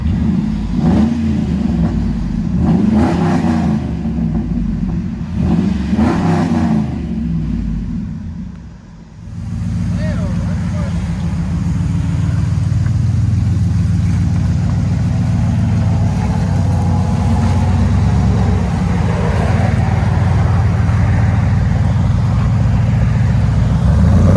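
A Dodge/RAM 1500 with a 4.7L V8 Magnum engine and loud aftermarket exhaust revs hard in repeated bursts, then settles into a continuous deep, rumbling idle and drone, close and loud with no talking.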